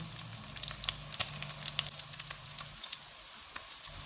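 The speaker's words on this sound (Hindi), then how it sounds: "एक टेबलस्पून बटर और लेंगे, इसमें एक टेबलस्पून चॉप किया हुआ लहसुन डालेंगे।" Continuous hissing and popping of chopped garlic frying in butter in a pan, with scattered crackles throughout and a faint low hum that cuts out near the end.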